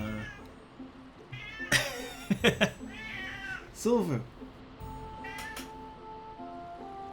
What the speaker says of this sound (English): The cat has just come in, and he has come in meowing hard.